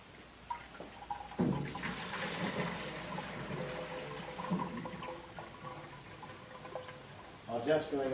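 Five quarts of ice cream mix pour into an ice cream machine with a sloshing, gurgling liquid rush that starts suddenly and runs steadily. People talk over and around it.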